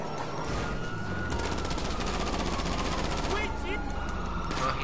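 GTA 5 Online gunfire rattles in a rapid, steady automatic burst through a loud, continuous game mix, with the player's voice talking throughout.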